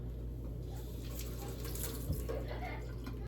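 Liquid draining from thawed frozen young coconut for a buko salad, a steady running-water trickle like a tap pouring, close and moderate, with a brief splash near the middle.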